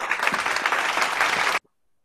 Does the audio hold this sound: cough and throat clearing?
no